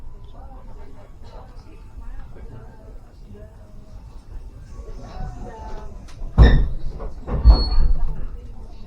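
Walahar commuter train at Cikarang station, quiet rumble with two loud metallic clanks or door thuds near the end, people talking faintly in the background.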